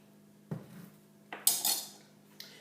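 A utensil stirs baking powder into kofta mixture in a bowl, producing a few sharp clinks and scrapes against the bowl, spaced apart and fairly close in otherwise quiet surroundings.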